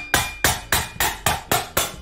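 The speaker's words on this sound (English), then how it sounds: "We're gonna take this screwdriver, hammer, and we're gonna poke some holes in here." A hammer drives a screwdriver through a metal can to punch drainage holes: seven sharp metallic strikes at an even beat, close and loud, each ringing briefly before the next, with no talking.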